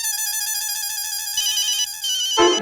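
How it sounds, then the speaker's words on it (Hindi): A mobile phone ringtone plays a steady repeating electronic melody, loud and close, with no talk over it, the pattern shifting briefly near the end. "बॉस का फोन आ गया।"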